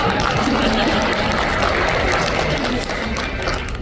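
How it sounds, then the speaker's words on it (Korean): A crowd at a talk concert marking an anniversary applauds steadily for nearly four seconds, a dense wash of many hands clapping close by that eases slightly toward the end. "정말 이 매끄러운 진행에 박수 한번 부탁드리겠습니다"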